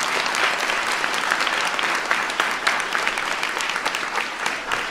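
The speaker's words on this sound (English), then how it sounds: "Give Olivia a big round of applause." A crowd claps steadily for several seconds, a dense, continuous wash of applause at fairly close range with no voices standing out.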